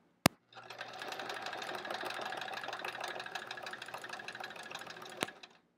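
Domestic sewing machine doing free-motion quilting on a quilt-as-you-go sampler block, a rapid steady needle chatter running for about five seconds between two sharp clicks, close and clear with no talking.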